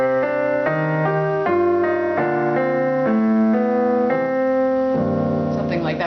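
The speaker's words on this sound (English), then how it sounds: "where there's something, there's two things going on and maybe one is more interesting than the other one," Melody with accompaniment: a higher tune moves over lower supporting notes and chords sounding together, with steady note changes throughout as an example of homophonic music.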